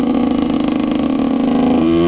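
A 1999-era Yamaha YZ80 two-stroke dirt bike engine runs steadily at close range, a crisp buzzing drone with a rhythmic harmonic pulse that shifts pitch slightly near the end, no voices over it.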